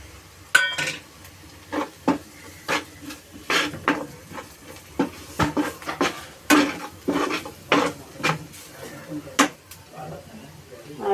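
Spices tipped into onions frying in a pan for a raw banana bhaji, with repeated clinks and scrapes of a spoon stirring against the pan, fairly close, over a faint background hum.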